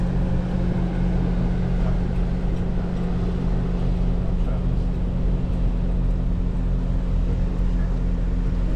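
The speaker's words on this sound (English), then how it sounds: "And there goes a boat passing us." A steady, low motor drone rumbles throughout, like a boat engine on the water nearby, constant in loudness with a faint background hiss.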